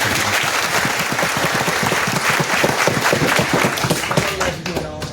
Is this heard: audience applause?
yes